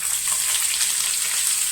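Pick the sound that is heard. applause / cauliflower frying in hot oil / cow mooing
cauliflower frying in hot oil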